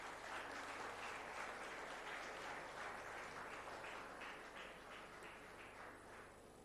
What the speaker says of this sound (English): I would request everyone to please give them a big round of applause.